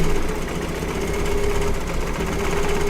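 A home embroidery machine stitching in the hoop, giving a steady close mechanical hum and rapid needle rattle that runs continuously without pause.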